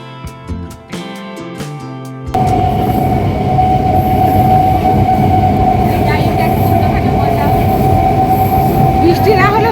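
A passenger train rolls along as a steady loud rumble with a sustained whine and occasional faint squeals, preceded by a few seconds of musical tones before the ride noise takes over.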